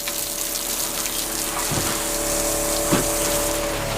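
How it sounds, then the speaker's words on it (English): Steady, loud water spray from a hose rinses bleach off the walls of a log home, a continuous rushing hiss with a pump-like hum beneath it. "you want to just kind of hose it off and get that bleach and stuff off there"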